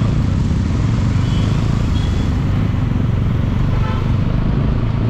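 A motorcycle ridden through a traffic jam, with a steady close engine rumble and heavy wind buffeting running unbroken throughout.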